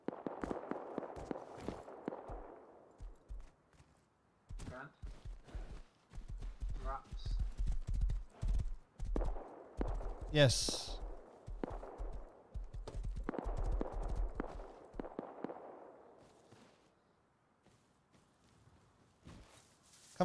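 Video game horse hooves clip-clop in an uneven walking rhythm, close and clear, with broadband bursts of noise and a brief spoken word mixed in.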